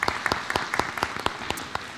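A crowd at a school board of education meeting claps steadily and fairly loudly, the applause holding for a couple of seconds with a few sharper claps standing out.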